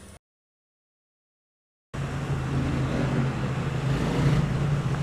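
A Triumph Street Cup or Scrambler motorcycle idles with a steady, low, throaty exhaust drone, heard up close after a brief silence and continuing evenly without talk.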